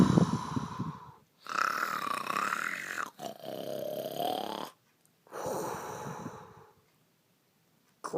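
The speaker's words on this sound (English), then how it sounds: "Springtrap kept snoring." The Springtrap character snores loudly in long, rough, drawn-out breaths separated by short silent pauses, close and alone with no talk.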